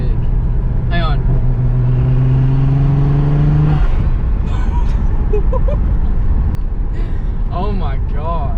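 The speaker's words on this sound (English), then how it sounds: "It sounds like a V8 when it's sitting idling, but when you actually start taking off, it sounds more like a V6." A Mitsubishi 3000GT's engine revs hard as the car pulls away, a loud rising roar for the first few seconds, then dropping off. Voices talk excitedly over and after it.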